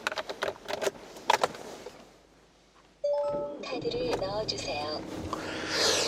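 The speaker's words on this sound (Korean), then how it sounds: "자 시동소리 굉장히 부드럽게 잘 걸리고 있는 차량이고" Keys jingle at first, then a 2018 Hyundai All New Tucson SUV engine starts and settles into a smooth, steady idle, with dashboard warning chimes ringing over it.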